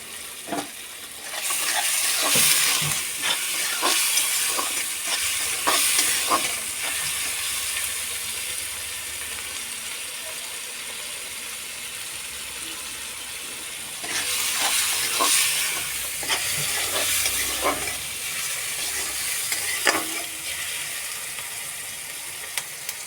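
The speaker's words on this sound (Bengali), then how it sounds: "একটু সামান্য ব্রাউন করে ভাজবো" Ingredients being fried and stirred in a pan until browned, a continuous close sizzle punctuated by spatula scrapes and clatters, busier in two bursts of stirring.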